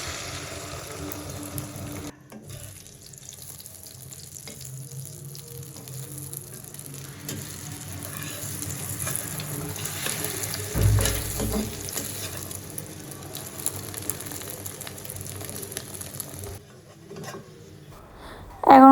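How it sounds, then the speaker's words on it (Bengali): Hilsa fish fries in a pan with a steady, continuous sizzle and crackle that holds at an even level throughout, with occasional stirring and a louder burst near the end. "তো ইলিশ মাছ ভাজি করতেছি"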